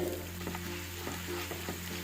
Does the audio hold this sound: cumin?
yes